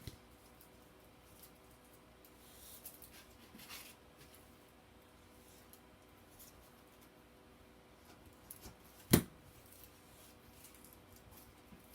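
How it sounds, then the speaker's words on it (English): Scissors make a single sharp snip, trimming excess material from a caterpillar craft against a quiet room background. "I'm going to cut a little bit of excess off"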